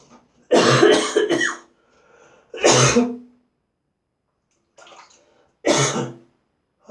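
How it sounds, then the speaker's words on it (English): Several separate coughs or throat-clearings, close and fairly loud, spaced with pauses between them and a fainter sound in one gap. "I don't know why I've started to cough."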